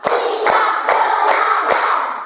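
A primary classroom claps hands together in a counting clap game, with five crisp, evenly spaced claps under a teacher's voice leading the count.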